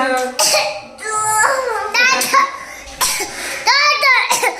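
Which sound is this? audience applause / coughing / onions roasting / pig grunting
coughing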